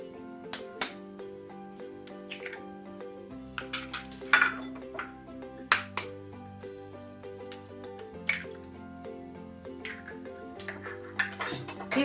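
Two eggs are cracked and beaten in a bowl for a liver marinade, heard as close clinks and taps of utensil on dish, soft stirring and occasional sharper knocks against a quiet background.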